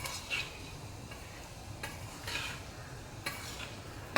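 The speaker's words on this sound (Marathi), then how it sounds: "असं मिक्स करून घ्यायचं." Sago khichdi with potatoes, cooked in a little oil, being stirred and mixed with salt in a pan, giving soft repeated scraping strokes over a faint sizzle, with no talking.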